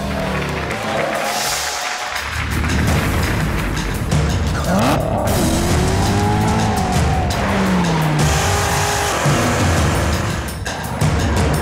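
A 2019 Corvette ZR1 at its Dubai Motor Show world premiere revs loudly and continuously, engine tones rising and falling with tire squeal over a busy, reverberant hall.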